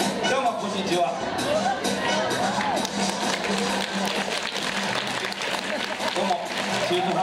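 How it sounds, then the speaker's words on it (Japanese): A stage-event audience at an amusement park gives a half-hearted round of applause, a dense, steady patter of scattered claps mixed with crowd murmur that lasts the whole time without building. "半端な拍手ありがとうございます。"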